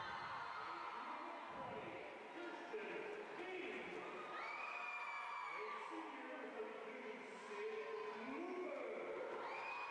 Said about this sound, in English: It's a good-sized crowd.